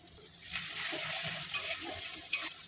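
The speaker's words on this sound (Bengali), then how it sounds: "পেঁয়াজ কেটে রেখেছিলাম, পেঁয়াজটা ভেজে নেবো।" Chopped onions frying in a pan, a continuous close sizzle with occasional stirring clinks and scrapes and no voices.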